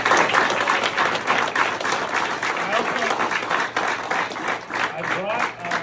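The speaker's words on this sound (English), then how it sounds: "let's give James a round of applause" An audience gives a round of applause for James, with steady dense clapping across the room and voices talking over it throughout.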